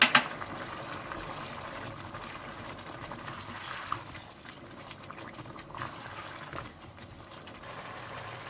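Ginger chicken sauce seasoned with crushed black pepper, lemon juice and garam masala bubbling in a pan, a soft continuous simmer with light liquid crackle and a few faint clinks, no voices.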